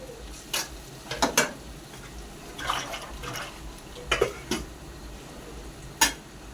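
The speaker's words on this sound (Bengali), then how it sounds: "স্বাদ মতো লবণ দিয়েছি, হলুদ গুঁড়ো দিয়ে এই ভেজে নিচ্ছি" Frying in a pan with salt and turmeric powder, a soft background sizzle broken by several sharp utensil scrapes and clinks at irregular intervals.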